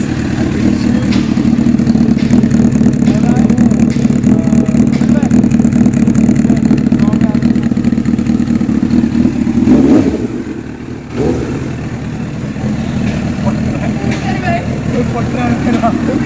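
A 2006 Honda CBR 1000RR with a loud exhaust idles and revs hard nearby, a sustained rough engine roar that drops briefly near the end before picking up again, with a voice speaking over it.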